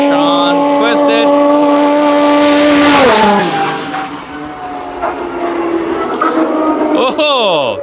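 A drag race car engine roars loudly, its pitch climbing steadily before dropping sharply and then rising again, with tire noise and voices talking over it at a drag strip.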